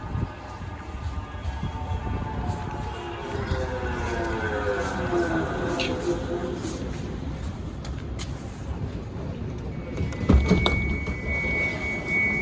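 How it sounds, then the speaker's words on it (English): A Manchester Metrolink tram pulls in, its electric motor whine rising and falling over a steady rolling rumble, then a brief clank and a thin high brake squeal as it comes to a halt close by. "And here's the tram."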